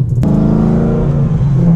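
A BMW E92 M3 with a straight-piped exhaust revs hard, a loud, raw engine roar that jumps in sharply after a brief lower rumble and holds steady and close for the rest of the moment, with no talking.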